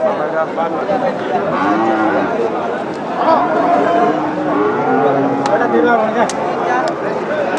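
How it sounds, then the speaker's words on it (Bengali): Several Sahiwal cattle, including bulls, low and moo in overlapping calls amid crowd chatter at a cattle market, with the animals close and loud throughout. "এটি হচ্ছে বেশ সাইওয়াল জাতের সার শুকনো কাটিং আছে মোটা তাজা করানো উপযোগী"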